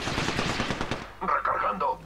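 Rapid automatic gunfire from the Apex Legends video game, in sharp bursts through the second half, with a voice speaking over the earlier part.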